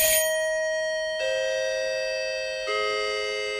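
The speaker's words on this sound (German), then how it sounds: "Ach, die Klingel." A doorbell chimes in three descending electronic tones, each ringing out clearly and fading slowly, with no voices.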